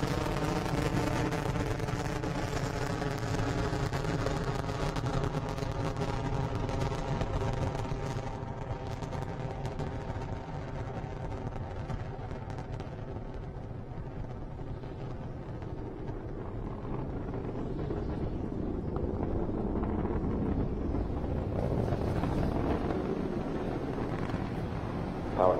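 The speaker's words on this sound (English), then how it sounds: "Falcon 9 is clear the tower. Stage 1 propulsion is nominal." A SpaceX Falcon 9 carrying Intelsat 35e climbs on its nine Merlin 1D engines, a steady, loud broadband roar that rumbles continuously and swells slightly toward the end, with no voices.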